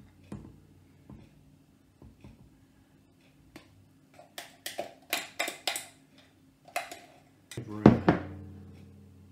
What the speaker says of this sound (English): Bit of a stir.